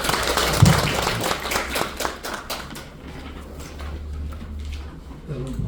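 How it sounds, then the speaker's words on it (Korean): Audience clapping to welcome a speaker at a Catholic peace seminar on North Korean nuclear issues, a steady wash of applause that is strongest early and fades over several seconds, with some murmuring underneath. "박수로 모시겠습니다."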